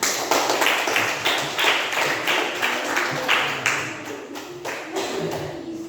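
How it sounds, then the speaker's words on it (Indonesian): Students in a classroom break into a sustained round of clapping after a discussion ends, dense and even throughout, with a faint regular beat, easing slightly toward the close. "Ya, berikan tepuk tangan."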